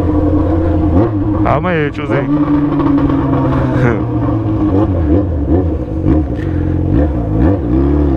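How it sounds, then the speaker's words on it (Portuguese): A loud Yamaha XJ motorcycle revs and burbles with rising and falling engine pitch, close and continuous, while someone talks over it. "Você gosta de moto barulhenta?"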